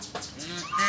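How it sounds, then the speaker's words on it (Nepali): Ducks near a rural Nepali home give a short harsh call close by, rising louder at the end of a brief moment, with no talk over it. "झन् छेउमा गयो भने झन् कराउँछ हेर्नु।"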